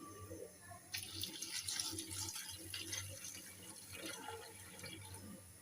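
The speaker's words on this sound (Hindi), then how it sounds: "अभी इसमें थोड़ा सा पानी डालेंगे" Water poured from a container into a pressure cooker holding chicken and potatoes in a home kitchen, a steady faint splashing trickle that runs on for several seconds.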